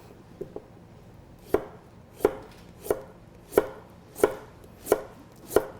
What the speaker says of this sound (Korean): 당근도 같이 슬라이스해서 준비해 주시면 되겠습니다